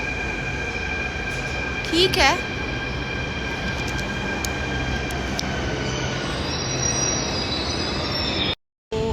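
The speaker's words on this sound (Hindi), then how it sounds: "अभी एक मेट्रो जा चुकी है जो कि दूसरी लेन में थी, वो जा रही है" A Delhi Metro train pulls away from the station with a steady rolling rumble and a sharp high wheel squeal early on, while someone speaks briefly nearby.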